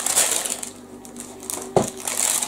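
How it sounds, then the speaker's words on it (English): A cardboard box holding doner meat is pulled open up close. Quiet crinkly scraping gives way to one sharp crack around the middle, then more rustling, all within a couple of seconds. "So, open up the box like this."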